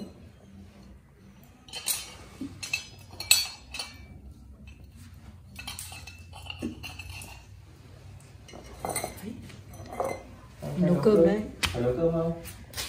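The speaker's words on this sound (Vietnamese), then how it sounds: "ông rửa nồi trong nấu cơm đấy" An old man washes a cooking pot, making scattered metallic clinks, knocks and scrapes that grow busier toward the end, while voices murmur intermittently nearby.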